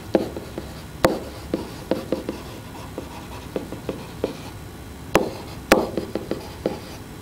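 Marker or chalk strokes on a board while a geometry line segment is drawn, with irregular taps and short scrapes, a few sharper knocks standing out, close and without talk.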